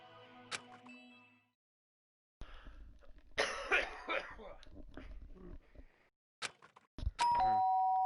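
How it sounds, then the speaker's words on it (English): A two-note doorbell chime rings out clearly near the end of a scene in the video game Danganronpa: Trigger Happy Havoc, following a cough, scattered clicks and a stretch of muffled noise. "Ding dong!"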